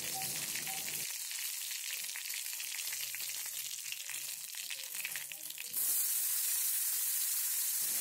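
Tomatoes frying in red-browned garlic paste in a pan give a steady, close hiss and crackle with no talk, and the sizzle grows brighter and louder toward the end.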